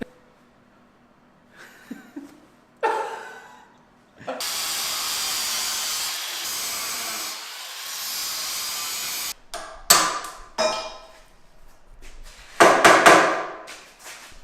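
Go-kart frame tubing is notched with a power tool for a KX250-powered build, giving a long loud grinding burst in the middle, then several sharp bursts of cutting toward the end, with quieter workshop noise between.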